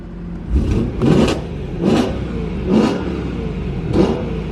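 A BMW E92 M3 with an aftermarket exhaust, valves closed, revs five evenly spaced times, rising and falling over a constant low rumble, each burst muffled and throaty, close and moderately loud.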